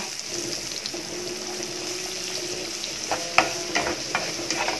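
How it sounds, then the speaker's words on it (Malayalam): Chopped onions sautéing in hot oil for a Kerala thattukada-style egg curry, a steady moderate sizzle with occasional scraping stirs toward the end, no talk. "ഇനി ഈ സവാള നന്നായിട്ട് ഒരു ബ്രൗണിഷ് കളർ ആകുവോളം വഴറ്റിയെടുക്കുക"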